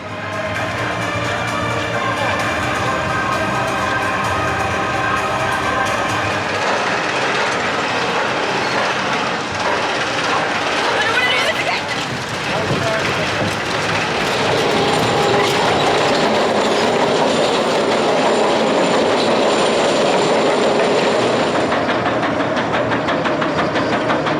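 Big One roller coaster at Blackpool Pleasure Beach, heard from on board: a steady loud mechanical clatter of the chain lift ratchet and rolling wheels, continuous throughout, building into rushing wind noise in the later part.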